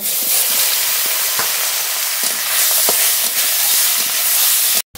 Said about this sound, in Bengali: একই তেলের মধ্যে ল্যাঠা মাছগুলো ভেজে নেব।